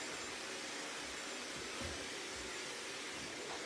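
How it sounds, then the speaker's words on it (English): A hair blower clears cut hair away after a short men's fade haircut, giving a loud, steady, close-up rushing whoosh of air that holds level throughout with no talk. "So I'm going to blow all the hair off them."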